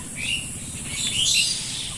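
A couple of quick, high bird calls ring out in a netted fruit orchard over a low constant hum, brief and fairly near.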